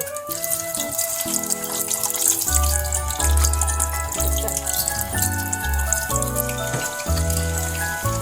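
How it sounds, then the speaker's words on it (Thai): Water drains out of cooked instant noodles through a strainer, a steady splashing pour heard under prominent background music. "เราต้องกรองน้ำออกนะคะ"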